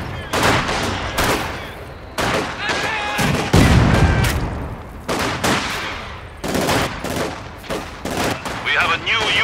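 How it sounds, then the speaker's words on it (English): Repeated machine gun bursts in Company of Heroes 2 rattle in short, loud volleys across a battlefield, with one heavier booming blast in the middle and shouted unit voices cutting in between. "Machine gun!"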